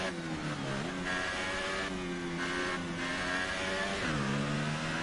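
A Formula 1 car engine in the F1 2018 racing game whines at a high pitch and drops in steps as it downshifts, with several distinct gear changes over a few seconds and no talk.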